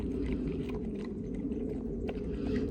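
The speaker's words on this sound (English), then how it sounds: "Maple is munching down on hers." A dog named Maple chews freeze-dried dog food on a trail, a run of close crunching and biting over a low steady hum.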